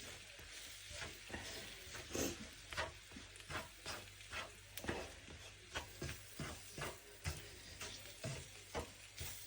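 Semolina (rava) being stirred in oil and butter in a pan gives soft rhythmic scraping strokes over a faint sizzle, steady and close, with no voices.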